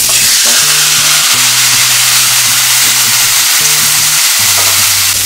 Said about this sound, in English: on the same pan, we're gonna go ahead and put our flank steak on and cook that